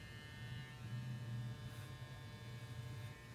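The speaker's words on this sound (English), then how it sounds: "The clipper just died." Hair clippers buzz steadily close-up during a haircut at a barbershop, a continuous low electric drone with a faint whine and no talk.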